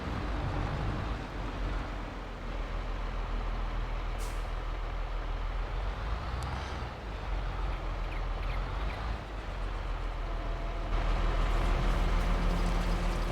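A truck idles steadily in a Farming Simulator 22 yard with a continuous low engine rumble, a few brief hissing air-brake releases cutting through, and a louder engine swell near the end.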